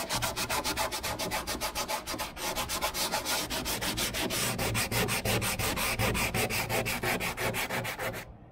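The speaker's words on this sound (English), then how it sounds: "I'm getting just have to rough up this area a little bit, right around here" A hand sands to rough up a surface on an aircraft fuselage before epoxy goes on. The rasping strokes are loud, fast and rhythmic and run without pause, then stop abruptly at the end. There is no talking.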